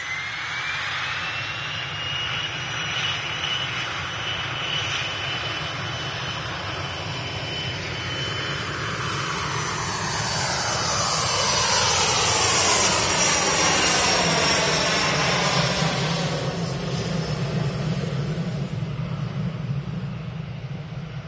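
An RAF Envoy IV jet roars loudly and steadily on departure, its engine whine sweeping downward as it passes close by and starts to recede, with no voices.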